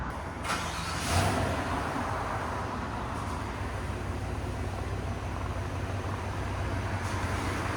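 A 2026 Chevy Silverado Trail Boss with a 5.3-liter V8 and Borla Touring cat-back exhaust idles steadily, a deep continuous rumble that holds level throughout with a slight swell near the start and no talking.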